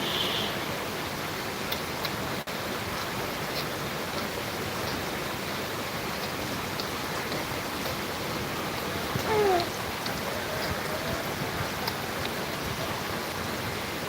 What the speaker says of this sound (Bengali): ভালো বৃষ্টি হচ্ছে